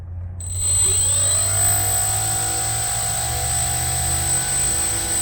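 Small electric motor spinning an 11.86 by 3 3D-printed propeller at quarter throttle on a thrust test stand, a steady high whine that rises quickly to speed and holds, close and alone.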